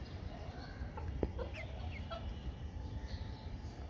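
A broiler chicken gives several short, soft clucks and chirps close by over a constant low background hum, with no speech.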